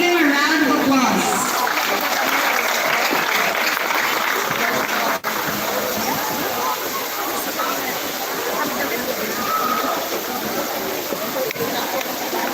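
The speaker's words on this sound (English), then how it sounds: "Let us give him a round of applause" A graduation ceremony audience at a high school applauds in a steady, broad wash of clapping that carries on for several seconds, with some voices faintly in the mix.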